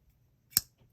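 A single sharp metallic snap as the blade of an MBK Laconico double detent folding knife clicks closed, brief and close in an otherwise quiet room.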